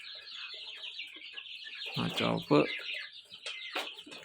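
Chickens in a new coop, with close clucking calls in short bursts, scattered across the clip over a steady background hiss, while a person speaks briefly.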